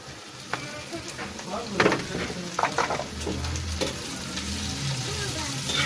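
Chopped onion, green chili and tomato frying in a pan for a prawn bhuna, with a continuous close sizzle and several bursts of spatula scraping and stirring against the pan in the middle.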